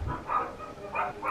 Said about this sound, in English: Oh my god, my freaking dogs.